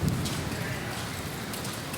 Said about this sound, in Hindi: यहाँ आज बारिश हो रही है और हवा तेज़ी के साथ चल रहा है।